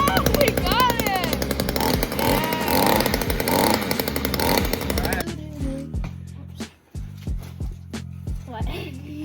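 A string trimmer motor mounted on a homemade scooter fires up and runs with a loud, rasping two-stroke buzz, then drops to sputtering, uneven pops and bursts as the revs fall, while people talk excitedly over it.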